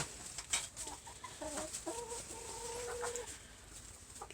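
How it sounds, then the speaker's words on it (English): Hens cluck softly and intermittently close by in a backyard coop, a few short murmuring calls over faint outdoor background noise. "hang out with the chickens."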